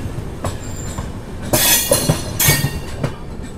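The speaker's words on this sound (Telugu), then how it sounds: "సో మన ట్రైన్ వచ్చేసి టిట్లగర్ జంక్షన్కి అయితే రీచ్ అయింది" Tatanagar–Ernakulam Express pulling into Titlagarh junction, loud rolling wagons with rhythmic clickety-clack and bursts of wheel squeal, close by with no voices.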